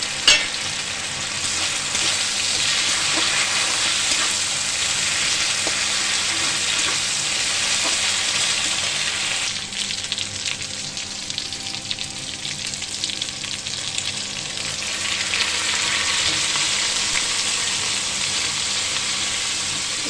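Chopped tomato hits hot oil with fried ginger and green chilli in a pan for khichdi, sizzling loudly and steadily throughout with brief stirring scrapes, the hiss easing slightly midway before building again.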